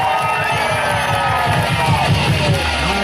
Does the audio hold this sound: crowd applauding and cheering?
yes